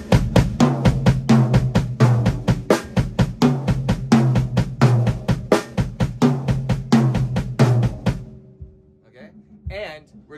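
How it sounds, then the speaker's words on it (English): Drum kit playing a steady triplet exercise with the bass drum hitting on the 'and-a' of each beat, loud dense repeated hits for about eight seconds, then stopping into near silence with a faint tail. "But on those andas, you're going to hit the bass drum. So it's going to be triplet."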